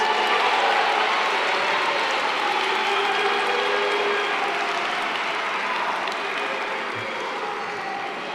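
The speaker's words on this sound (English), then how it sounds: "And let us give them a big round of applause." An audience at the State of the Nation Address applauds in a sustained, even wash of clapping that fades slightly toward the end.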